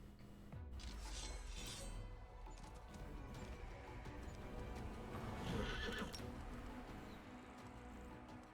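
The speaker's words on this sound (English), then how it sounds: "Plagued wolves, plagued horses." Diseased, plagued horses in the video game Pathfinder: Wrath of the Righteous let out a sharp neigh, then snort and whinny faintly among clopping hooves and a glassy crash, all quiet and distant.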